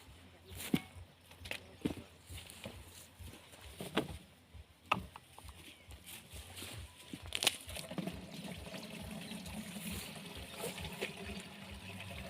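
Water trickles and splashes as it is poured into a powder mix while a spinach nursery bed is prepared outdoors, with intermittent scraping and handling noises close by, growing steadier toward the end.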